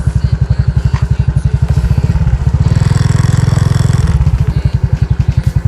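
A motorcycle engine idles close by with a loud, rhythmic thumping pulse, briefly revving up in the middle before settling back to idle.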